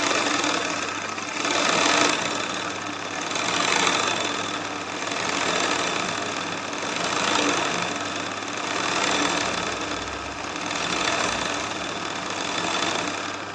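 A machine-work embroidery machine stitches a rice stitch design, giving a continuous, close, rapid mechanical whirring and clatter with a gently pulsing rhythm throughout.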